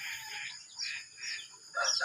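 Hens clucking in short bursts with a brief pause between calls, then a louder, busier flurry of clucks at the end, fairly close by.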